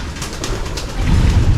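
Pigeons or doves cooing on a Filipino farm with many birds, a soft continuous murmur of low coos that grows fuller and louder toward the end, no voices.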